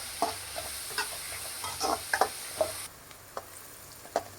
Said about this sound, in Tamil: கருவேப்பிலை போட்டுட்டு வெங்காயம் நல்லா ப்ரௌன் ஆகணும்